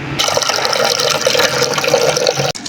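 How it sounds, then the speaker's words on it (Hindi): Water poured into a juicer machine while making dal, a steady close splashing pour that runs for over two seconds and stops abruptly near the end. "गाइस हमने जूसर मशीन ली है, इसमें हल्का सा पानी ऐड करेंगे।"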